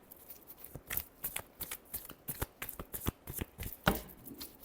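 Tarot cards being shuffled by hand in a rapid series of crisp riffling snaps and slaps, close and clear with no talk.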